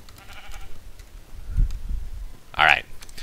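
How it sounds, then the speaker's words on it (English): A Minecraft sheep gives a short bleat near the end, heard after someone talks and mixed with low game background noise. "Would you be quiet, sheep?"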